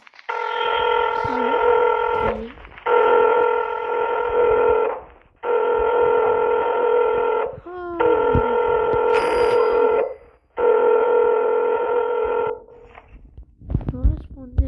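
A telephone rings in the Roblox game Ohio, its electronic trill coming in five long, steady bursts separated by short pauses, loud and close, with brief speech between the rings.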